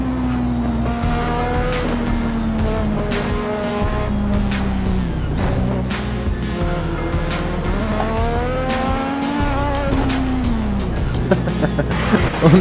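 A Lotus 98T racing car in Assetto Corsa, its engine droning loudly and steadily with rising and falling pitch through gear changes, sharp shift blips and occasional tire noise, with a voice speaking faintly over it.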